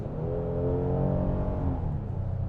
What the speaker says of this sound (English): definitely I hear the engine a lot more